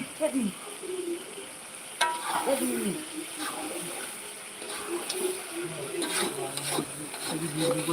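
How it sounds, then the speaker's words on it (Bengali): Meat frying in a pan for a home feast, a close, steady sizzle broken by scraping stirs and bursts of spatter. "আপনারা দেখতে পাচ্ছেন এখানে মাংস রান্না হচ্ছে"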